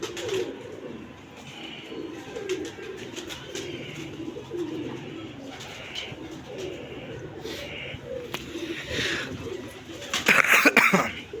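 A pigeon coos softly and repeatedly at close range against low background noise, with a brief louder flutter near the end.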